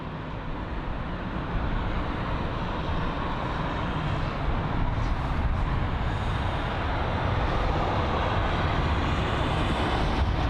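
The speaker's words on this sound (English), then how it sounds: "There is the A321neo now pulling in." An Airbus A321neo taxis in toward its gate at London Heathrow, a steady broadband engine rumble and rushing whine holding at a constant moderate level throughout without any pause.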